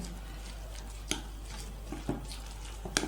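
A spoon mixes heavy cream into a cheese and zucchini tart filling in a bowl, with a few soft scrapes and clinks against the bowl over a steady low hum.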